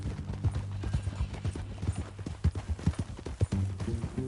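Horse hooves clip-clopping on the ground in the video game Red Dead Redemption, a quick steady rhythm of soft thuds at moderate distance, fairly quiet and alone.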